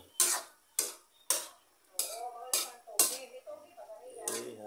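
A spoon scrapes and clanks rhythmically against a pot of squid simmering in coconut milk, with about seven sharp metallic strikes close up and faint bubbling between them.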